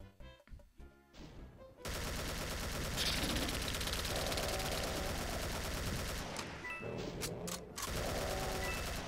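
AK-47 fire in Doom with the Guncaster mod: after a few scattered shots, a dense continuous burst of rapid automatic gunfire and blasts fills the rest of the passage, loud and without talk.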